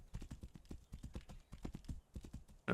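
Horse hooves clip-clop in a steady, close rhythm across the ground in the gothic Arthurian video game Tainted Grail, running throughout, with a brief louder burst of noise at the very end.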